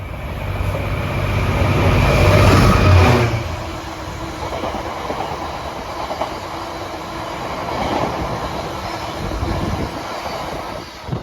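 A train moves through Edale railway station in the Peak District with a heavy low rumble that swells early and then settles into steady rolling rail noise and clatter, with no voices.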